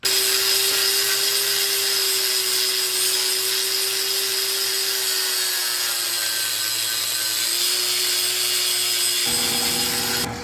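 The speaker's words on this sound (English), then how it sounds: "So we're gonna grind this off, knock this pin out" An angle grinder runs continuously on a Procharged Mustang part, a loud steady high-pitched whine with a sustained tone that shifts slightly in pitch, cutting off abruptly near the end.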